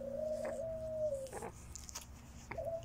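Pigeons coo outdoors. A drawn-out coo comes first, followed by a shorter call a couple of seconds later, over a low steady background hum.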